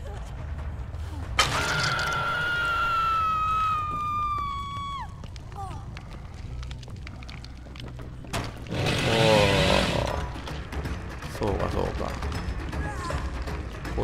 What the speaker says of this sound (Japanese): チェーンソーで一刀両断やん。